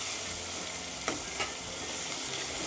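Tomatoes sauté in hot oil for thalcha, a dense, steady sizzle with a couple of soft stirring clinks, close and even throughout.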